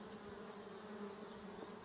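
Honeybees from a settled swarm buzz steadily at a hive, a dense, continuous drone close to the listener with no talking.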